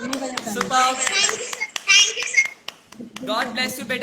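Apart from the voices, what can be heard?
applause for a dancer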